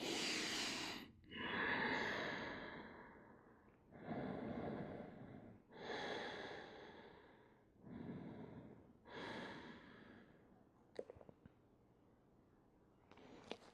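Slow, deep breaths during a yoga class, five or six long airy inhales and exhales close to the listener, evenly spaced with short pauses, followed by a few faint clicks and rustles.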